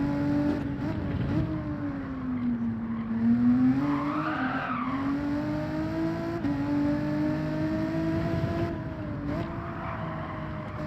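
Car tires squealing in Gran Turismo 7, a sustained wavering skid screech that rises and falls over a continuous engine drone, loud and steady throughout.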